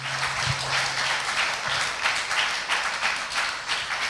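Worshippers in a church clap loudly to glorify God's name: a crowded, continuous patter of many hands with slight surges, accompanied by a faint low hum and an isolated tap near the start.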